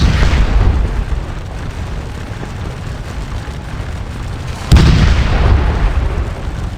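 Deep, rumbling artillery booms from a battery of 5.5-inch howitzers at Waterloo in the game Scourge of War, with a loud sustained roar and a fresh heavy blast near the end.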